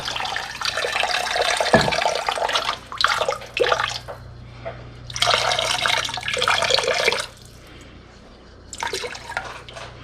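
A cup and a half of water is poured into a slow cooker around a bottom round pot roast, splashing in several bursts separated by short pauses.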